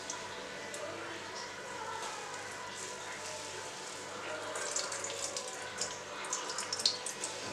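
Water trickling and dripping steadily, close by, squeezed out of grated cauliflower, growing slightly louder toward the end.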